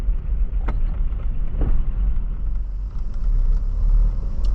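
A video game truck rumbles steadily with a low engine drone, a couple of brief clunks marking gear shifts early on, and a faint rattle running throughout.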